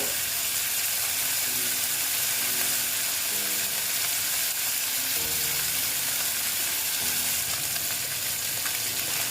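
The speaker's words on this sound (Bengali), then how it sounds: "মাছগুলো ভেজে নেব ভালো মতন কড়া করে ভাজবো" Small fish deep-fry in hot oil until crisp, producing a constant dense, loud sizzle close by, with low bubbling rumbles and faint tonal hums running beneath.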